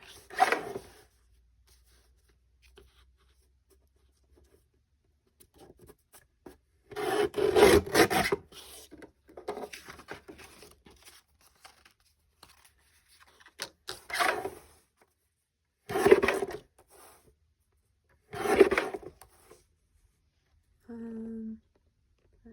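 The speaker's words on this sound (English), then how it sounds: "I'm cutting small tags because it's obviously, you know, these are little tiny spots" Scissors snipping small paper tags for Christmas ephemera crafting, a few short bursts of rasping cuts separated by quiet pauses, close and fairly crisp, with no talk.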